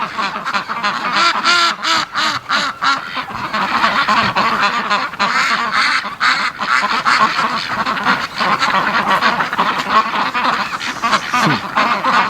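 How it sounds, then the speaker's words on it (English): A flock of Muscovy ducks hurrying home from the mud toward shelter under a building, loud continuous overlapping quacking and honking nearby that goes on without a break, with no voices. "oh, look at the little duck rush home."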